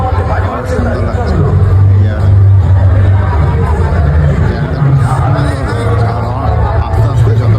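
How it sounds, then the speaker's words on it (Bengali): Dense crowd hubbub on church grounds in Bongaon at night, with many overlapping voices and chatter forming a steady, loud babble throughout, plus occasional louder shouts. "আস্তে আস্তে যত রাত হচ্ছে তত কিন্তু লোকের ভিড়টা বাড়ছে।"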